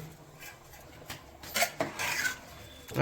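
Metal spoon scraping and clinking against a pot while stirring prawn pulao, with a few sharper scrapes in the middle, close and moderately quiet.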